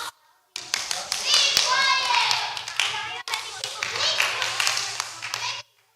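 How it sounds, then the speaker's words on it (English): Children clapping their hands on cue at a church gathering, a quick burst of claps starting together and running for several seconds with a brief gap, bright chatter and shouts of kids mixed in. "if you can hear me, clap your hands."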